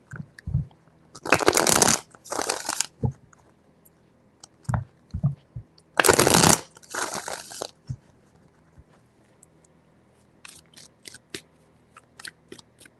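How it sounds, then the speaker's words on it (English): Tarot cards are shuffled by hand in short bursts of riffling and flicking, with quiet handling taps and pauses between them and no talking. "Three shuffles."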